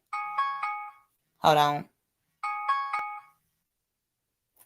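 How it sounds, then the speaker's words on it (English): Phone alarm reminder chime ringing in two short bursts of a repeated electronic tone, close and clear, with a brief spoken interjection in between. "That's my alarm trying to remind me to stay on track."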